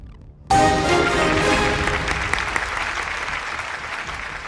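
An audience at a university quiz event breaks into sudden applause, a loud burst of clapping that starts abruptly and gradually tapers over a few seconds.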